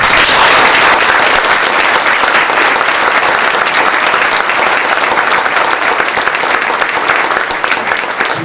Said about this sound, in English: We have one more round of applause to all of our